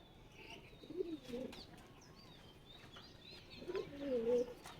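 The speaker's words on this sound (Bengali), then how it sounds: "এই দেখেন পায়রা সারাদিনই দৌড়াদৌড়ি করে এগুলা" Pet pigeons move about and coo softly in a low, rolling murmur, with two faint bursts of cooing about three seconds apart against quiet background noise.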